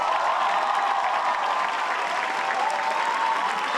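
An audience at a musical theatre event applauds steadily and densely throughout, a continuous wash of clapping from a crowd with no pauses.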